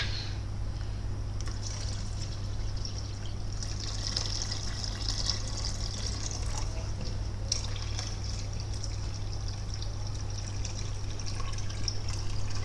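Water used to soak fish is poured into a cooking pot for Ugandan matoke. It makes a steady, continuous splashing trickle that carries on without a break and stays fairly close.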